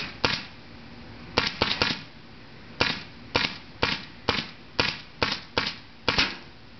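Toy-style guns firing in repeated sharp cracks, about a dozen close, bright pops in irregular bursts with short gaps between them, no voices.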